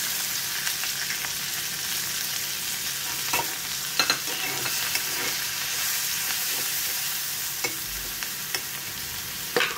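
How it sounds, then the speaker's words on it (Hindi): Onions fry in hot oil with a chili and bay leaf, a steady soft sizzling hiss with occasional stirring clicks and scrapes, close and moderately quiet, with no talking. "अब मैं इसमें प्याज डाल दे रही हूँ।"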